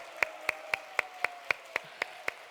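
Evenly spaced claps, about four per second, sharp and clear with a steady rhythm, like a small group clapping in unison in a hall, from a congregation at a Friday evening church service.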